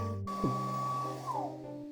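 A hair dryer switches on and blows steadily while drying a watercolor painting, a constant whirring hum that shifts slightly in pitch partway through, fairly close and alone without talk.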